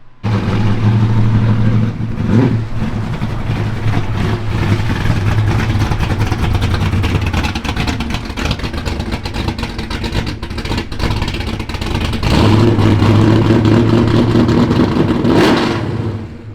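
A Chevy Nova's engine revs loudly and close, rising in two strong bursts at the start and again near the end, with a steady rumbling drone between them and no talking.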